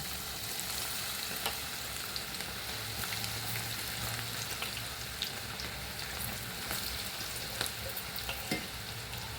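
Cabbage and moong dal pakodas frying in hot oil, giving a steady, close, dense sizzle with faint crackles and occasional stirring clicks, no talking.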